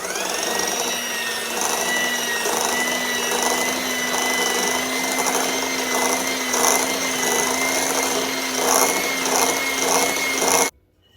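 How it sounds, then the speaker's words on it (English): An electric mixer runs steadily, blending cupcake frosting with vanilla and orange extracts for chocolate orange cupcakes. The motor whine is loud, close and continuous, holding one pitch for about ten seconds before cutting off abruptly. "we're going to continue mixing until they're well incorporated"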